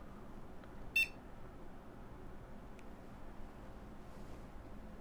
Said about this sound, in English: I love hearing that beep.